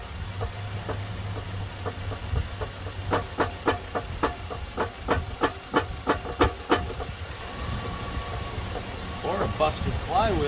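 A 2002 Chevy Silverado with a 5.3 engine running with a knock, a steady hissing idle under a series of regular sharp ticking knocks that build in the middle and then fade.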